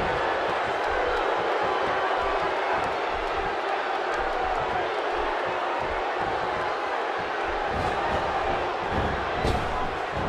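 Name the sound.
wrestling arena crowd cheering during Rollins vs Ryback match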